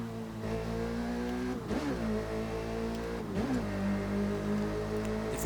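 A motorcycle engine in The Crew 2 holds a high steady whine through a wheelie, dipping and surging back twice as the rider shifts, loud and close with no talk.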